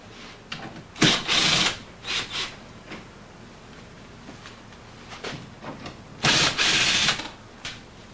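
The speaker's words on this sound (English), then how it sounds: "Now we drill holes" Power drill boring holes through door hinge templates on a door, several short loud bursts of whirring with pauses between, close by.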